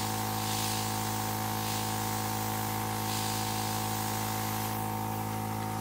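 Water-based Dinair makeup is airbrushed over a stencil, giving a close, continuous hiss in several gentle swells above an unbroken droning compressor hum.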